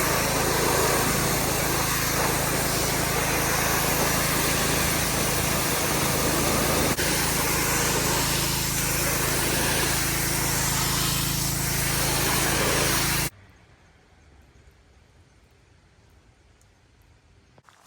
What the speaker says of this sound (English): then we're gonna pressure wash it out